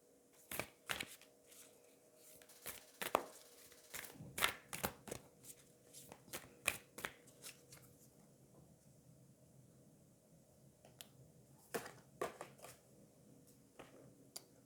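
Oracle cards are shuffled by hand in a quiet room, in bursts of crisp riffling and sharp slaps that come in irregular clusters with short pauses between them.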